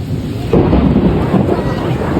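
Loud thunder breaks out during a sudden heavy downpour, a deep rumbling roar that starts abruptly and rolls on continuously over steady rain hiss, close and powerful.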